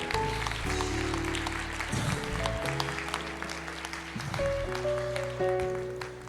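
Congregation clapping at a church service, a scattered patter of hands mixed with sustained organ or keyboard chords, moderately loud and continuous.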